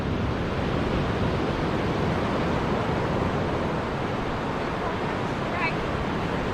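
Steady, loud broadband roar of surf breaking continuously on a fishing beach, with wind buffeting the microphone throughout and no distinct pauses between waves.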